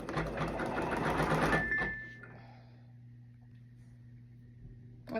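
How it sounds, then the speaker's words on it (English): An embroidery machine sews a placement stitch on a hoodie, a fast, loud, buzzing rhythmic needle chatter that stops after about two seconds, leaving a quiet steady mechanical hum. "And this is that placement stitch."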